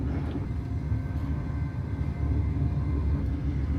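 Classic KCR train running from Shenzhen toward Guangzhou, heard from inside as a steady low rumble of wheels and motors that holds at an even level throughout.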